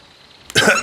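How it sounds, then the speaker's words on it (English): A cartoon train character gives a single short, raspy cough after a brief quiet moment, close and clear. "why are you squeaking and coughing?"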